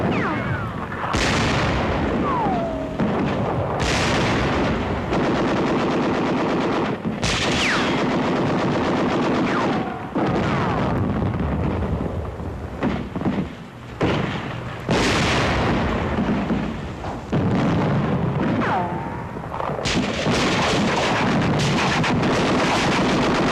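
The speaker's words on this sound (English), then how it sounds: "Self-propelled 105mm howitzers spearhead the attack." Self-propelled 105mm howitzer artillery and small-arms gunfire during a wartime infantry assault, heavy booms and bursts rolling continuously across a loud, dense battle soundscape.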